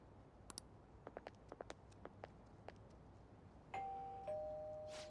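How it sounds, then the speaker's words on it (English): A two-tone doorbell chime rings out clearly in Persona 5 Royal near the end, preceded by a few soft, scattered footstep-like taps in a quiet room. "You ring the bell."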